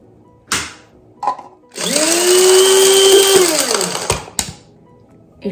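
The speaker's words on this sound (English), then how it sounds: "Now we will grind it." An electric grinder whirs loudly and steadily for about two and a half seconds, pulverising roasted whole spices for tandoori masala, with a falling pitch as it stops. Short knocks and clatters from handling the jar come before and after.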